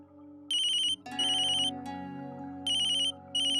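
A phone ringtone plays for an incoming call in an Indian TV drama household scene: a repeated high electronic trill in four bursts with short gaps, clear and close over a quiet musical background, with no talking.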